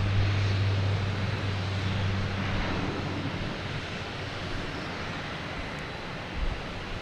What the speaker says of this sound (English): we got Delta coming in from JFK, and we have PAL taking off to Halifax